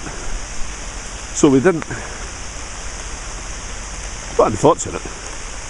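Steady rain falls, a constant even hiss filling the background while someone speaks briefly twice over it.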